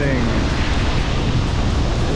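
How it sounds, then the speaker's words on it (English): A waterfall at Milford Sound, heard from a cruise boat passing close by, gives a loud, continuous roaring wash that fills the whole clip, with wind buffeting the microphone. "We're going under the waterfall now."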